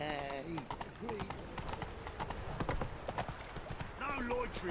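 Horse hooves clip-clop in The Witcher 3 Wild Hunt, a steady close trotting beat running throughout, with people talking over it and brief voice-like tones near the start and end.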